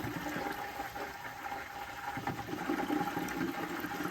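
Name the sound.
water and air purging from a gas boiler zone into a bucket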